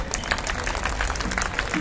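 Audience applause at a Hindi comic poetry gathering at the Red Fort, a dense, steady burst of many hands clapping close by for under two seconds.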